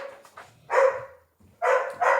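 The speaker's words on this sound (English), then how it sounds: "Sorry, my dogs are barking" Several dogs bark indoors in loud, close bursts, a short volley followed by a pause and then two more sharp barks, with no one talking.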